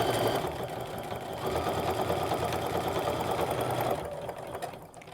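A sewing machine runs in a steady, fast stitching buzz while sewing the seams of a zip pouch, close and moderately loud, slowing and stopping near the end.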